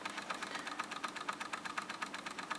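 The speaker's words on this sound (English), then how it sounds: "It's called a walking arm engine." A small walking beam Stirling engine runs fast and smoothly, giving a quiet, steady mechanical ticking and rapid rhythmic chatter at a close distance, with no voices.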